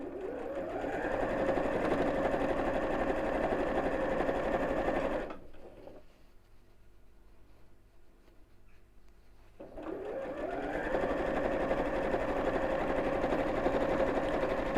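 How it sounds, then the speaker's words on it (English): A sewing machine runs steadily around the edge of a bowling bag, loud and close. It stops for about four seconds and then starts up again at the same steady speed. "We're going to sew all the way around, down the next side."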